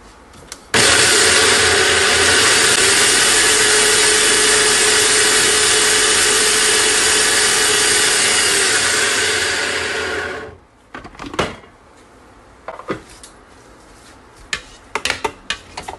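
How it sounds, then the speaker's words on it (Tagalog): A food processor chops molokhia leaves, a loud continuous whirring grind running steadily for about ten seconds before cutting off, followed by a few clattering knocks and bumps. "Ganito ang pagkaano sa food processor."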